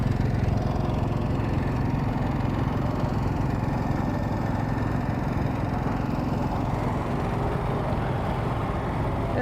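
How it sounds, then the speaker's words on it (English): Generator on a 2021 Winnebago Solis 59PX camper van runs at a steady, loud, low idle, a continuous engine drone with no talking. "This right here is your exhaust for your generator."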